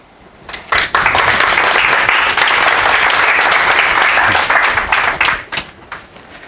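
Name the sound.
audience applause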